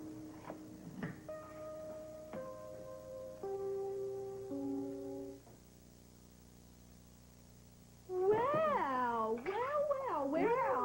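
A cat meows indoors, several short tonal calls near the start and a longer, wavering run of meows toward the end, with quieter stretches between.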